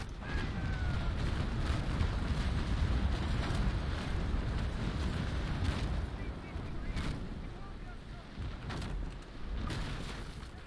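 Ship cannon fire in the naval combat game Naval Action, heavy booms rolling into one another over a constant roar of sea and battle noise, loud and sustained with occasional sharper reports.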